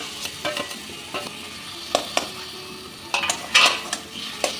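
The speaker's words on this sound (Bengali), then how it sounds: "বেগুন পোড়াটা দিয়েও আমি আরেকটু কষিয়ে নেব।" Peeled roasted eggplant being sautéed in fried spice paste in a pan, a soft steady sizzle with occasional scraping stirs of a spatula against the pan, close and without voices.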